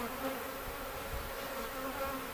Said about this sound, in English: You see the bees are getting kind of agitated